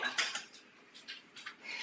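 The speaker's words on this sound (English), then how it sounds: "So you're going to strain it. I have the sieve on top and I'm just going to pour it over." A drink being poured through a sieve in a home kitchen, with soft splashing and light metallic clinks of the strainer against a vessel, fairly quiet and close, without talking.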